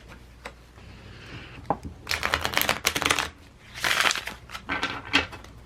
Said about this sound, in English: I'm going to take a minute to shuffle the cards.